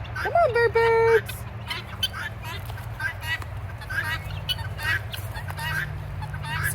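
A domesticated guinea fowl flock calls nearby, starting with a loud, sharp bird cry followed by scattered repeated cackling chatter over a constant low hum, with faint talk mixed in.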